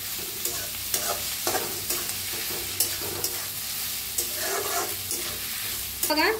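Onions frying in a pan for a tomato and onion vegetable dish, stirred with repeated scraping strokes over a constant close sizzle.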